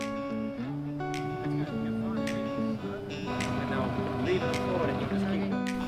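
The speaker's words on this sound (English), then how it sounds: "McFly, who's driving the dinghy?" A small outboard motor drives a dinghy across the sea, droning steadily and close throughout, with people talking over the engine noise.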